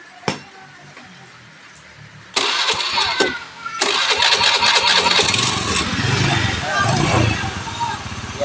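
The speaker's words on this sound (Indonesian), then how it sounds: "Guys, hidup ya. Suara mesin halus, aman." A Honda Beat carburetor motorcycle, once dead, cranks briefly and then fires up, its engine settling into a steady, fairly loud running idle with some nearby background noise.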